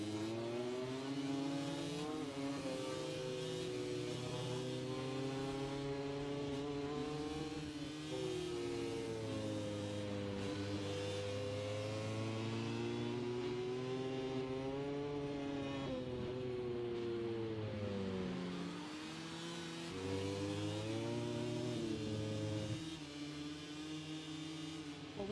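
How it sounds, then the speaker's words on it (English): An onboard Moto3 racing motorcycle engine at the Spanish Grand Prix screams loudly and continuously, its pitch climbing through the gears, dropping under braking and climbing again through repeated shifts over about 25 seconds, with no talk. "We just thought we'd have a little bit of a pause there just to give an indication of Ayagura as he attacks into the stadium section."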